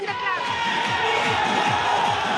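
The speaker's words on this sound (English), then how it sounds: "just hear the chants and the" Dense crowd noise at a BJP victory celebration with party workers dancing, rhythmic chanting and sloganeering over steady clapping, loud and continuous throughout with voices mixed in.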